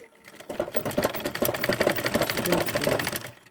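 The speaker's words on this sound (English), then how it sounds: "Then I will stitch that part too." A sewing machine stitching fabric for a Senegalese zarah cap, running in a fast, continuous mechanical rattle for about three seconds, close and fairly quiet, starting and stopping cleanly.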